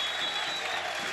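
A football stadium crowd in Lebanon, Ansar supporters, applauds warmly as a player leaves the pitch during a match against Chabeb el Sahel, a steady, dense wash of clapping with no voices standing out.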